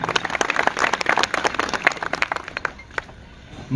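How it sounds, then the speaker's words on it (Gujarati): Audience clapping at a large Gujarati farmers' rally, a dense patter of many hands that rises quickly and then thins and fades toward the end. "મહેશભાઈ માટે એક વખત જોરદાર તાળીઓ"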